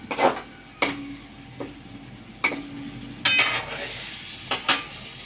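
Masala for paneer curry is stirred in a pan, with sharp scrapes and clinks of a spoon against metal at irregular intervals over a soft, steady sizzle of frying.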